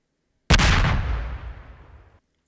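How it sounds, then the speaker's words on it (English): A TNT minecart in Minecraft blows up in one sudden, loud, close blast that rumbles and fades over about a second and a half, with silence before and after. "this TNT minecart is going to explode"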